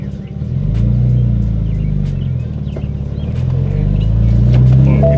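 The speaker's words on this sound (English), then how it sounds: "I'm gonna drive the car and you're gonna see the numbers moving" A BMW 535xi E60 with the N54 engine, suffering limp-mode trouble, drives in first gear, heard from the cabin as a low steady engine rumble with rising and falling revs and faint interior clicks.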